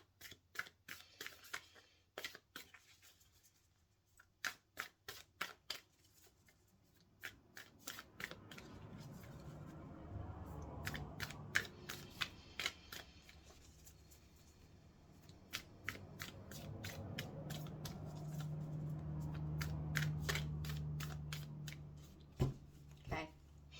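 Oracle cards shuffled by hand in a rapid series of crisp, snapping riffles and slides, fast bursts alternating with pauses, a low hum and faint room noise underneath throughout.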